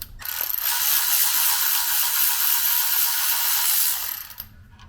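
A ratchet spins rapidly with a continuous close clicking whir while 10mm bolts are loosened on a BMW E36 engine, steady for several seconds before stopping.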